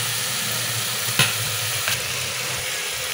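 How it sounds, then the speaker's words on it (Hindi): Chana and potatoes fry with spices in a pan, giving a loud, even sizzle. Two quick spatula scrapes break through the hiss, and no one speaks. "थोड़ी देर के लिए इसको इसी तरह से भूनना है मसाले के साथ।"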